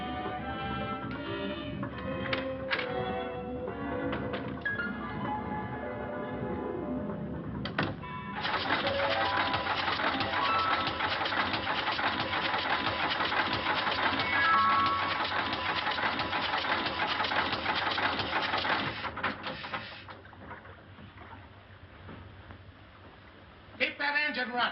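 A small boat's motor running aboard, a busy mechanical clatter and whir that sputters in after a few seconds, holds steady and loud for a stretch, then cuts out near the end.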